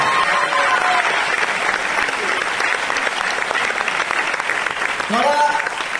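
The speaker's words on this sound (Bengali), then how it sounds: "তো সৌভিক দাসের জন্য যাবে জোরদার হাততালি দেওয়া দরকার।" Loud, sustained clapping from a hall audience at a corporate recognition program, honoring Souvik Das, continuing evenly throughout with a few brief voice-like tones and whistles near the end.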